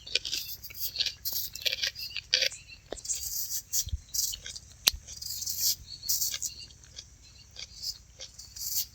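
Chibhda, a cucumber-like melon, being cut up for a shak, crisp irregular knife snips and crunchy slicing taps close by, with quiet handling noises and faint murmuring between the cuts.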